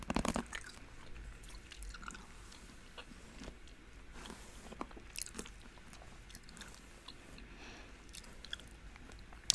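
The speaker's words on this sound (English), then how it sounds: "I'll be chewing some gum as well." Gum chewing up close in a quiet room, with soft irregular wet clicks and smacks repeating steadily throughout, plus a louder burst of handling noise at the start.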